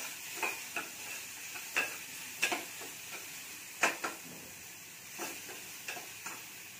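Soft frying sizzle of chilli powder, garam masala, turmeric and salt over medium heat underneath a series of spatula scrapes and clacks against a pan, spaced irregularly, with no talking.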